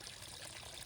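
A faint, steady trickle and splash of water from a garden hose circulating water in a backyard pond in winter, soft and continuous with no talking.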